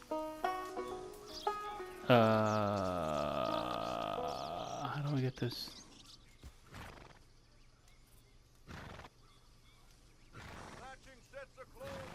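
A horse in the video game Red Dead Redemption 2 gives a loud, drawn-out whinny, with hoof clip-clops before it and someone talking over the quieter stretches afterward.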